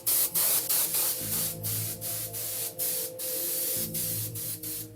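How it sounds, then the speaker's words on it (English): An airbrush sprays paint onto the torn burlap edges of a prop in repeated short hissing bursts, loud and close, each separated by a brief pause, with a low motor hum underneath and no voices. "we airbrushed all the torn edges of the burlap"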